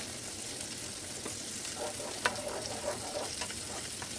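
Bread rolls toast in a pan for cheeseburgers with a low, even sizzle, and a few faint taps and clicks sound close by.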